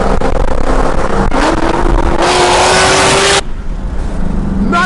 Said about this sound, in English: I love the way that car sounds.